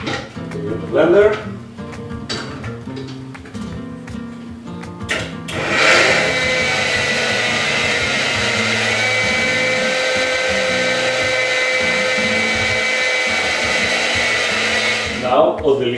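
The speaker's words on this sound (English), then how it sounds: "We are going to blend it very smooth." A kitchen blender purees leek and potato soup: after a few short bursts, the motor runs loud and steady at full speed for about ten seconds, then cuts off near the end.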